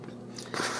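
A crunchy corner piece of a rich homemade brownie is bitten, giving a single close, crisp crunch lasting under a second, with no talking.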